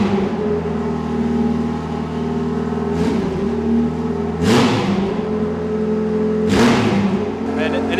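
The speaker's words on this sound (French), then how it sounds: "la voiture ne tient toujours pas le ralenti correctement et qu'elle monte toute seule en régime" The swapped engine in a Peugeot 106 idles high at about 2500 rpm, a steady, close droning hum with a few brief breathy bursts layered over it.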